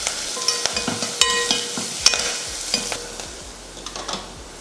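Spices and turmeric powder sizzle in hot oil while a spoon scrapes and stirs the pan in several quick strokes, close and fairly loud, with no one speaking.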